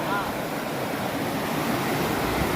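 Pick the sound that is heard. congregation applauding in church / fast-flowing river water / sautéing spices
fast-flowing river water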